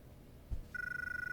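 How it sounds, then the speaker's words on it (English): In the video game Syberia 2, a telephone rings with a steady electronic trill that starts after a soft thump and keeps warbling in rapid pulses. "Oh, phone call."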